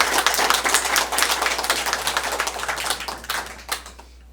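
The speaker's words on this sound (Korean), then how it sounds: "우리 힘차게 박수 한번 쳐주시기 바랍니다" Audience applause for a guest lecturer, a former North Korean embassy counsellor in Cuba, at a talk on the North Korean regime: dense, crisp clapping from a close room crowd, steady and then tapering off near the end.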